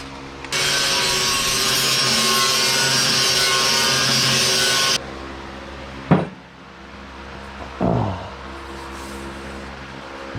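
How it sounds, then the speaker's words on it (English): Power grinder smoothing a welded steel car fender, a loud continuous grinding burst lasting several seconds, then stopping, followed by a few short scrapes and knocks. "Let's grind it smooth and then duplicate."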